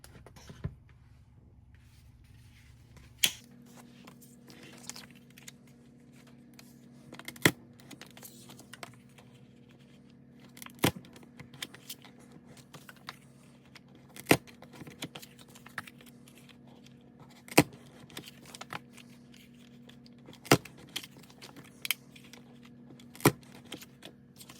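Hole punch pressing through paper cash envelopes, a series of sharp isolated clicks spaced a few seconds apart over a steady low background hum.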